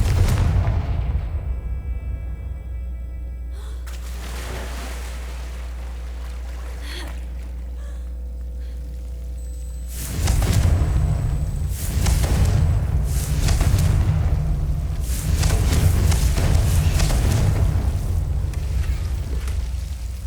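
Confringo blasting spells explode in the Hogwarts Legacy video game, a heavy booming blast rolling out in a loud, dense rumble after a quieter stretch, with no voice over it.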